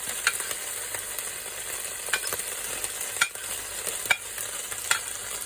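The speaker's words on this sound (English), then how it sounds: "So we're going to go in with our carrot next." Carrot going into a sizzling yacon stir fry with ginger and garlic, a steady high crackling hiss punctuated by sharp spatula clicks and stirring scrapes, close and alone.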